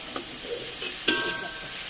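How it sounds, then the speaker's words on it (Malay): Sliced chilies frying in a pan for a sambal, a steady close hiss of oil with light stirring scrapes and a brief sharper clink midway. "Kita goreng ya tidak lama"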